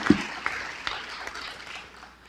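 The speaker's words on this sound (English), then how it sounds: "Would you all please give them a round of applause?" Audience applause at an opening evening event, a short burst of scattered clapping that starts with a few sharp claps and fades out over about two seconds.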